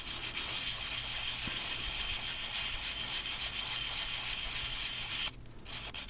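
Sandpaper rubbing in circles over putty on a plastic scale model, a steady close-up scratchy hiss that runs nearly unbroken, then eases off near the end.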